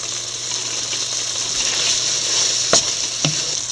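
Lemon curry frying in a pan as tamarind and fenugreek powder are stirred in, a steady bright sizzle with a couple of sharp scraping stir strokes near the end, close and with no talking.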